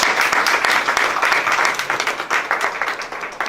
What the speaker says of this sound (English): Please join me in a round of applause for this board.